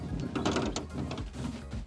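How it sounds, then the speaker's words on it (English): The back section of an AUSRV XL13E MKII offroad caravan is freed as its corner latches release, giving a quick series of close metallic clicks and clunks. "We can unlatch the back section. There's a latch in both corners."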